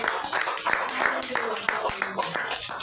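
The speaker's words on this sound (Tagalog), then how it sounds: "Deserve po ba ang Jehovah sa baot ng isang malakas na palakpak?" A crowd claps together in a dense burst of applause, steady and fairly loud throughout.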